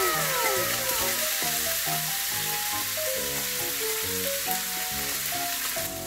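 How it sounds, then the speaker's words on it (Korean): Pork belly drops into plenty of hot oil in a Korean kitchen, giving a loud, steady broadband sizzle throughout, with faint clinks and music in the background and no talking. "먼저 고기부터 넣도록 하겠습니다."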